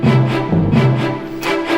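Orchestral backing of spiccato strings, low strings, timpani and bass trombones, built with free sample libraries, plays as a loud, sustained low chord with regular rhythmic pulses, heard alone.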